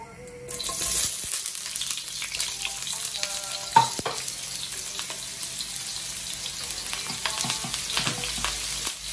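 Sliced onions dropped into hot cooking oil burst into a loud, close sizzle that settles into steady frying, with a few spatula clinks and stirring scrapes along the way.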